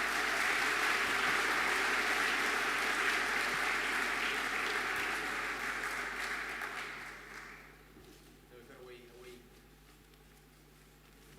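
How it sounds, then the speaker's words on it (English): A crowd at a school sports awards ceremony applauds in a broad, steady wash of clapping that holds for several seconds, then thins and fades out, leaving quieter room noise. "give him a big round of applause"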